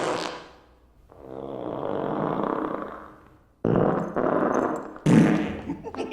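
A comic fart in a Scooby-Doo movie scene comes as a long, low, rumbling blast that swells and fades, followed by sudden loud bursts and bumps, close and prominent.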